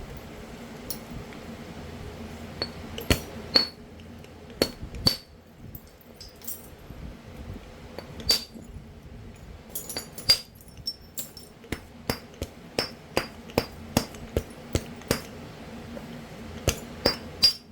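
A hammer strikes stone while flintknapping an arrowhead from a Georgetown rock, making sharp clicking, glassy taps scattered at first and then coming in a faster series, close and fairly quiet over a low hum.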